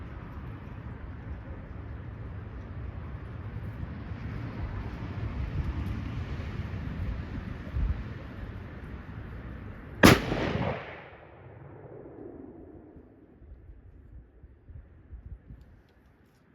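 A single sharp, loud 7mm Remington Magnum rifle shot cracks out of low steady outdoor rumble, then its boom rolls away and fades into quieter background.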